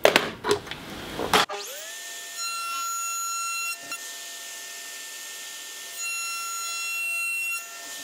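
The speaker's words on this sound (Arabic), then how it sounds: "الآن بواسطة منشار الطاولة" A few scraping bursts give way to a table saw's steady high whine as it cuts through wood, running evenly for several seconds.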